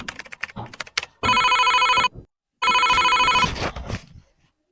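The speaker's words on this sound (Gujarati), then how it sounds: "એલા કમુનો ફોન. આનો ફોન પૈસા હાટું જશે." A telephone rings in two loud, close electronic bursts separated by a short pause, with indoor voices and handling noise around it.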